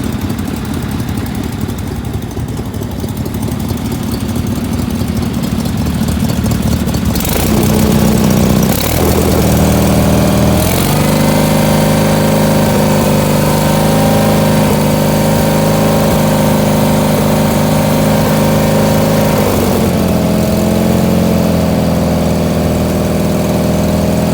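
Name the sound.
old engine running and idling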